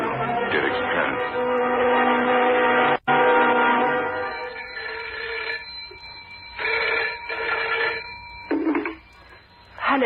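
A telephone call is placed in an old radio drama. A rapid burst of dialing leads into repeated ringing tones with short gaps between rings, fairly close and clear.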